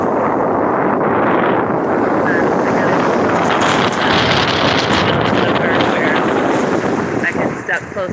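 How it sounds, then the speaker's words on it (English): Strong wind blows across a lakeshore in Petoskey, Michigan, roaring steadily into the microphone for several seconds and easing slightly near the end. "Can you hear the wind on the live stream?"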